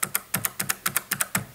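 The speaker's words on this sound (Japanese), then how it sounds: "青軸の音" Close-miked keystrokes on a Logitech mechanical keyboard fitted with blue switches: a brisk, steady run of sharp, bright clicks, roughly a dozen in under two seconds, each with a crisp snap, heard on its own with no voices.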